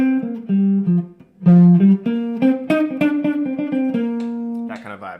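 Guitar plays the chord changes of a song, a bouncy swung jazz progression of short chord stabs with a few sustained notes, close and clear, ending on a brief voice.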